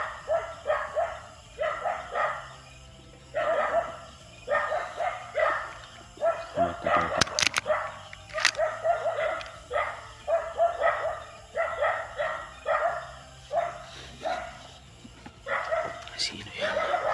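A dog barks over and over in steady repeated bursts at moderate distance, with a few sharp knocks and clatters partway through and a voice present among the barks.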